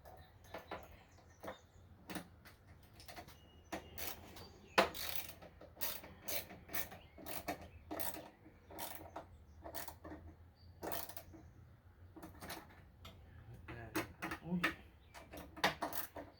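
A wrench tightening the bolt and nut on a new Hipa carburetor replacing a Tecumseh unit, repeated quick metallic ratcheting clicks in uneven bursts, close up, with someone talking at times.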